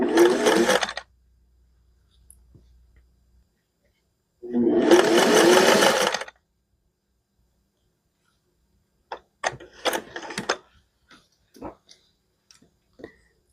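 A sewing machine stitches an inset circle quilt block in two short bursts of rapid, even needle chatter separated by quiet, then a few light clicks and taps as the fabric is handled.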